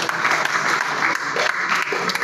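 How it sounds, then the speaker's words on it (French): An audience in Conakry claps steadily at a partnership event between Orange Guinée and the Guinean football federation, a dense continuous patter of applause for about two seconds. "Est-ce qu'on peut applaudir, mesdames et messieurs, s'il vous plaît?"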